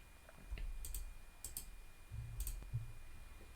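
Computer mouse clicks while working in the Canva design app, a few light, sharp clicks spaced irregularly over a quiet room background with no talking.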